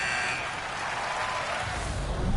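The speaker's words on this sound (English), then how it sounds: "There's the buzzer." Arena horn sounding at the end of a period in the NHL 25 hockey video game, a loud, steady blaring tone held for the full stretch over crowd noise.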